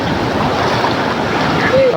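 Strong stream flowing at Thonippara waterfall, a loud, steady rush of water with wind buffeting the microphone, ending with a brief faint voice.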